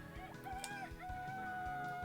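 Chickens cluck in the farming video game Harvest Moon: Back to Nature, short repeated calls over faint background game music, quiet and brief.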